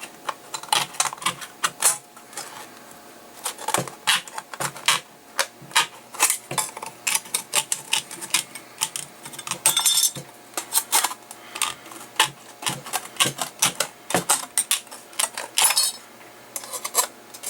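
Tin can metal being cut for a cup lid, heard as a close series of sharp, irregular clicks and snips with short pauses between them, with no voices.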